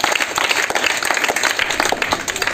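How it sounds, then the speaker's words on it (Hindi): A group of children clap their hands together in a dense, steady burst of applause, close and lively, filling the room before a sing-along. "चलो तो एक बार सब लोग ताली बजाओ पहले"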